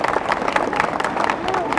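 Dense, brisk applause from an audience at a centenary celebration for an Urdu school in Bijapur, Karnataka, with many overlapping claps close by.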